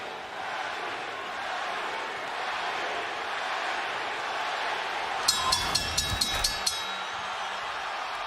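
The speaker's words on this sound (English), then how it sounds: "The Filipino crowd chanting for Pacquiao as he moved toward the center of the ring even before the opening bell" Filipino crowd in a boxing arena roaring and chanting for Manny Pacquiao before his fight with Oscar De La Hoya, a broad steady din of massed voices, topped near the end by a brief burst of sharp ringing bell strikes.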